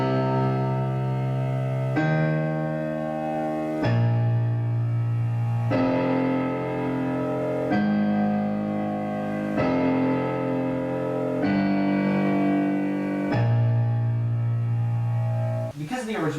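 Left-hand piano part of a piece, a steady series of sustained low chords or octaves changing about every two seconds, resonant and close with no talking.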